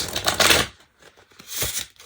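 Linen-finish playing cards riffle through a shuffle in two quick, close bursts of papery flutter separated by a short pause.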